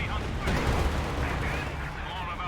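Battle sounds from the real-time strategy game Company of Heroes 2 during a strafing support run: dense, loud rattling gunfire and booming impacts roll together, with someone commentating over them.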